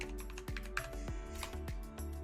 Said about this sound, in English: I'm going to type in glitter.